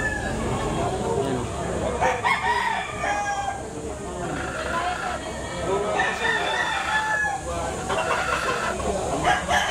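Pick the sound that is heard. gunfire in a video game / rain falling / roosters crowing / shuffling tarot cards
roosters crowing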